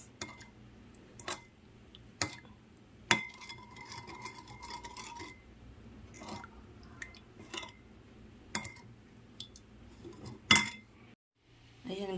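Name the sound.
mixing meat with marinade in a bowl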